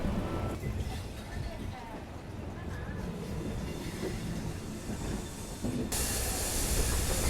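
A passenger train in general class runs along the rails toward Nagercoil Junction, giving a steady rumbling, hissing rail noise close by with no clear clickety-clack rhythm. It grows slightly louder near the end, with no talk over it.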